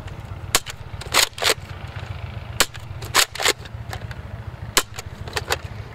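A Nerf Modulus Recon MKII blaster firing white foam darts: sharp cracking shots, several in quick pairs and others spaced apart, close over a constant low hum.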